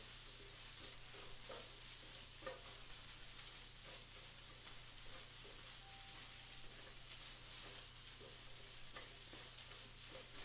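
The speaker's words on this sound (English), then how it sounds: "It'll crunch up that turkey pepperoni. sauteing for a few minutes, just getting them, cooked through." Turkey pepperoni sautes in a pan for an omelet, a steady soft sizzle and hiss with light stirring scrapes and taps throughout, faint and close, no voices.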